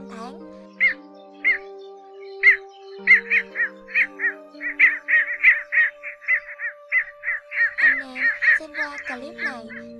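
Repeated calls of cinnamon bittern and yellow bittern, a rhythmic series of short, loud notes over a steady droning tone, with a lower note pattern shifting near the end; a bird-call playback track.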